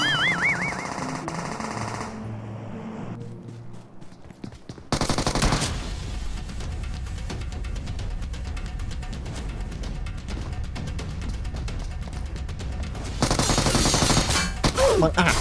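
In PUBG Mobile, rapid gunfire rattles in long, steady automatic bursts, close and loud, following a brief stretch of game music and effects.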